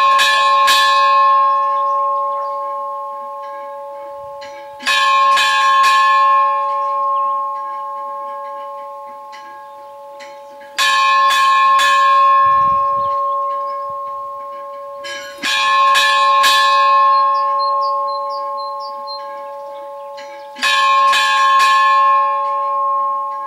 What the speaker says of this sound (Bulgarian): И почнах да я бия камбаната.